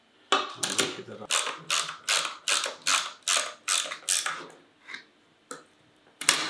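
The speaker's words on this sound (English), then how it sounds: "For doing the assembly, I'm going to need 2 spanners. I'm going to need a 13mm and a 10mm." A 10mm spanner tightening bolts while assembling an outdoor unit, a rhythmic series of loud ratcheting clicks in short bursts, close up, slowing and spacing out toward the end.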